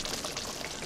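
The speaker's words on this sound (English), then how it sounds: "Oh, this pan's being happy and loud" Shrimp sizzle loudly in a hot pan: a steady, close, dense crackling hiss with no pauses and no voices.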